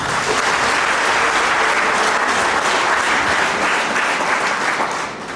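A wedding crowd applauding, dense sustained clapping close and loud throughout, tapering slightly at the very end.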